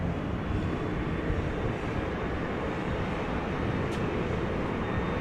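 A Transavia airliner at Amsterdam Schiphol Airport produces a low, steady engine rumble, fairly faint and distant, holding evenly with no talk over it.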